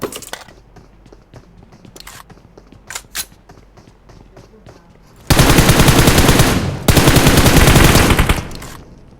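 AK rifle gunfire in PUBG rattles out in two loud sustained bursts of rapid automatic shots, preceded by quieter footsteps and small in-game clicks.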